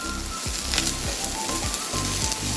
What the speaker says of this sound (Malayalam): അപ്പോൾ സോയൊക്കെ നല്ലോണം ഒന്ന് ഫ്രൈ ആയിട്ടുണ്ട് ചിലതൊക്കെ ഒന്ന് ചെറുതായിട്ട് ബ്രൗൺ ആയിട്ടുണ്ട്